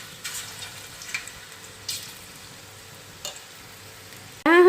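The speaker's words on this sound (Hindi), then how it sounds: "तेल हमारा अच्छे से गर्म हो गया है। तो यहाँ हम पकोड़े डालना शुरू कर देंगे।" Batter for Punjabi kadhi pakora frying in hot oil, a steady soft sizzle with a few brief louder bursts as spoonfuls drop in, then a sudden louder scraping clatter at the end.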